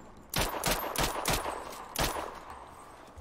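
AK rifle fire in the shooting game Sniper Ghost Warrior Contracts: five loud, sharp shots in quick succession, each with a short ringing tail, heard alone with no voices.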